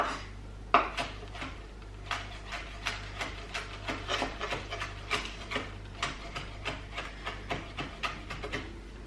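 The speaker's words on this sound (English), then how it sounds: "So whilst that's doing that, I'll just continue with my chopping." Parsley chopped with a knife on a wooden board: a quick, steady series of light, sharp taps, close but fairly quiet, continuing without pause.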